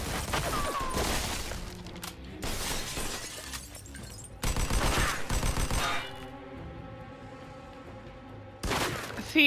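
Shotgun fire in the video game Mafia 2 Definitive Edition: several loud, sharp blasts roughly every two seconds, each with a crashing, shattering tail, over a low in-game ambience.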